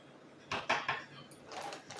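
A spoon scoops Ensure powder from a container: a few quick scraping clinks close by, then lighter rustling scrapes, with no voices.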